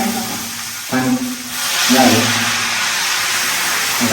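Water pours into a cooking pot in a home kitchen, a steady hissing rush lasting several seconds, close and fairly loud, with a brief voice at the start.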